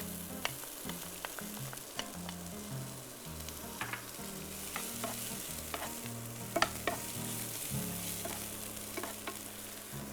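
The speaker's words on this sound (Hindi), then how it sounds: "अनियन को ज्यादा कुक नहीं करेंगे, बस थोड़ा सा हल्का सा स्वेट कर लें" Chopped onion and garlic sauté in a pan, giving a steady close sizzle with scraping and stirring clicks throughout and a low rumble underneath. Nobody talks.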